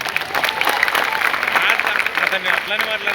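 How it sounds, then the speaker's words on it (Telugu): Crowd clapping at the unveiling of a Chhatrapati Shivaji statue in Vennachedu village, a loud sustained burst of applause with a voice talking over it. "గట్టిగా చప్పట్లు కొట్టాలి"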